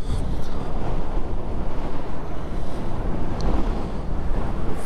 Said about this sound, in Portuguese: Vem num vento muito forte nesse momento